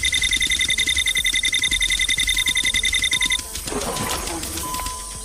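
A rapid, steady electronic video game beeping, signalling a target straight ahead, pulses repeatedly for a few seconds, then stops as background game sounds continue.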